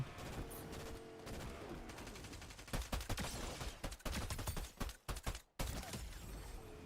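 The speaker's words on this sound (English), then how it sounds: "Oh, getting some shots from the side." Gunfire in a Fortnite zero-build match crackles in rapid bursts, clustered shots sounding fairly close and loud over game ambience, with brief pauses between volleys.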